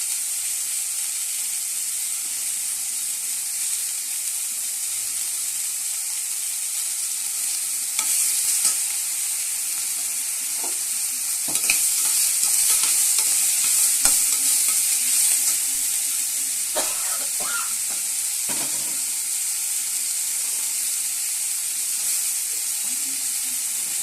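Bay leaf, green chili and spring onion fry in a pan with cinnamon, cloves and fennel seeds, making a steady, close sizzle with intermittent stirring scrapes and clicks.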